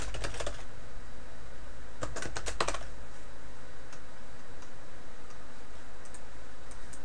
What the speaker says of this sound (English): Type in your message, so that's what's going to appear here.